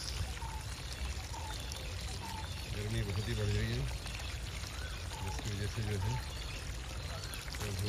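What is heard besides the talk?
water being poured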